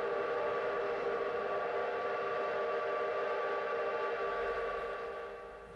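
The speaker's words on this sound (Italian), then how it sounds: "Le sirene di tutto il mondo comunista suonano per alcuni minuti." Sirens sound across the communist world for several minutes, heard as a sustained, loud, steady wailing tone with layered harmonics. It holds level throughout and then fades slightly at the end.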